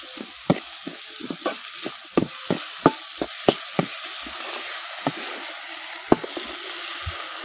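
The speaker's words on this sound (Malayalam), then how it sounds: "ഇനി നമുക്ക് ഈ തക്കാളി അങ്ങ് ഇട്ട് കൊടുക്കാം. ഇട്ട് കൊടുത്തിട്ട് നന്നായിട്ട് നമുക്ക് ഇളക്കാം" Chopped tomatoes are stirred into fried onions for a dried prawn roast, with a low sizzle beneath a quick, uneven run of sharp spatula taps and scrapes on the pan, close by and with no talking.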